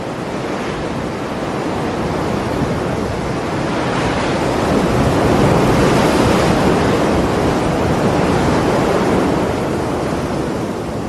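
Heavy surf crashes continuously against the rocky Atlantic coast south of Tan-Tan, Morocco, a loud, dense roar of breaking waves and foam with gusting wind on the microphone, swelling slightly midway, no voices.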